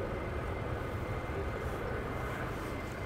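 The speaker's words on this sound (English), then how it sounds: "We've got three more taxiing down." F-35 fighter jets taxiing at RAF Lakenheath, heard as a steady, unbroken engine roar from some distance. No voices accompany it.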